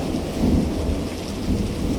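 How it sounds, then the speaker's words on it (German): Steady rain pours during an active thunderstorm at an abandoned mountain hut in the Dolomites, a dense continuous hiss with low rumbling undertones, moderately loud and without speech. "Ja, das Gewitter ist immer noch aktiv,"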